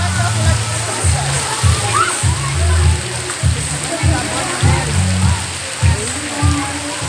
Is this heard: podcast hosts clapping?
no